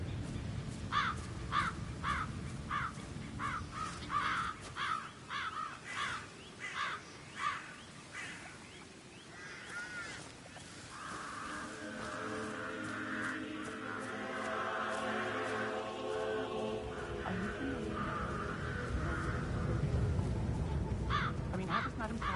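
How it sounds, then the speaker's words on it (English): Crows caw repeatedly in the Hitman 3 Dartmoor level, a loud rhythmic series of harsh calls at first, then a denser flock chorus as a voice speaks over them. "I'll never get rid of those stupid birds."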